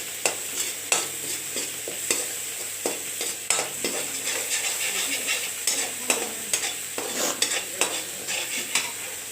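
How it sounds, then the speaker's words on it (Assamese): Spices frying in oil for a fish curry while being stirred, with a continuous close sizzle broken by regular sharp scrapes and knocks of the spoon against the pan. "এতিয়া মছলাখিনি ভাজি ল'ম যেতিয়ালৈকে তেলটো ওপৰলৈকে নাহে"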